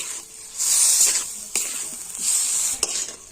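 Potatoes stirred and sautéed with spice paste in a kadai, with a steady broadband sizzle that swells and eases as the spatula moves, plus a few sharp scrapes and clinks against the pan; no voices.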